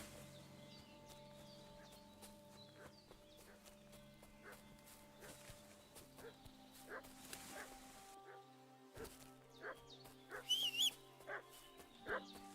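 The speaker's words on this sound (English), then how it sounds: "What's that dog making such a fuss about?" In the medieval video game Kingdom Come: Deliverance 2, a dog barks in faint, repeated yaps and whimpers nearby over a quiet ambient backdrop, with footsteps and a horse faintly audible.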